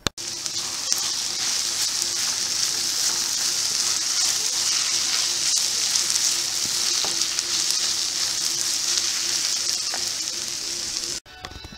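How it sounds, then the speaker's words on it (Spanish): Sliced onions frying in olive oil in a pan, a steady, dense sizzle that holds loud and even for about eleven seconds before cutting off abruptly. "vamos a poner a rehogar unas cebollas en aceite de oliva en una sartén"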